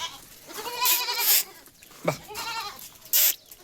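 Malabari female goat kids bleat several times, close and fairly loud, with short cries spaced irregularly over a few seconds and quiet gaps in between.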